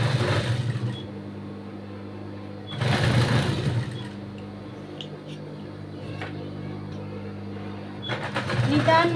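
Sewing machine stitching along a fabric edge finished with thread piping, short bursts of steady running separated by pauses, heard beneath a voice speaking throughout.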